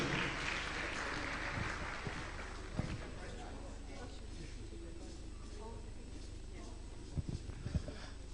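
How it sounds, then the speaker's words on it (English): An audience gives a round of applause for a panel at the Kenya Internet Governance Forum 2024, with faint, steady clapping filling the whole stretch and a few sharper claps near the end. "let's appreciate our panel one more time with a round of applause."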